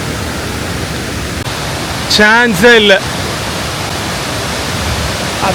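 Kuang Si Waterfall in Laos pours with a steady, dense roar of rushing water that fills the whole clip, while a voice briefly exclaims over it near the middle.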